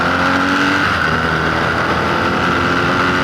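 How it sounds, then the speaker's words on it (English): Motorcycle engine picked up by a helmet-mounted mic while riding, a loud steady droning hum with a held pitch and wind rush throughout, briefly shifting tone early on. "you can put a mic somewhere on the motorcycle if you want to get some engine sounds"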